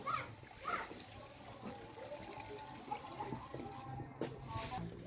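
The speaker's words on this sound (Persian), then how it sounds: "بعدش مقدار لازم آب میندازیم." Water poured into a cooking pot while preparing Afghan seven-fruit compote for the new year, a soft trickle and splash under a person talking.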